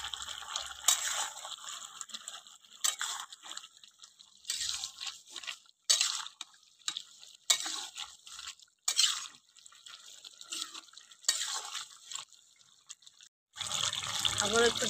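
Lentil fritters dropped into a simmering pumpkin and potato curry and stirred, giving intermittent wet squishes, drips and soft clatters in short bursts, near and moderately quiet, with a voice talking between them.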